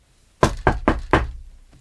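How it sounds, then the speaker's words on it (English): Four sharp knocks land on a wooden door in quick, slightly uneven succession, close and loud, with a short fading ring after the last. "He knocked on the door and asked the old woman for water."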